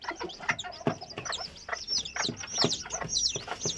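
A broody hen clucks softly over freshly hatched silver Sebright chicks, low repeated clucks mixed with the chicks' thin high peeping, fairly close and quiet.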